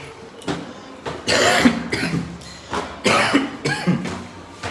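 Repeated harsh coughing in bursts, several coughs in a row with brief pauses between them, close and fairly loud.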